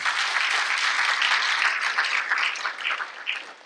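A crowd in an auditorium claps steadily in a dense, sustained round of applause at a school district state-of-the-district event, thinning slightly toward the end.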